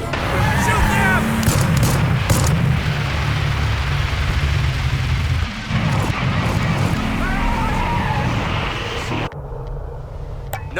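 Gunfire and heavy booms from the video game Hell Is Us ring out in a dense, loud, continuous battle mix, with voices speaking over the din before the noise suddenly drops near the end.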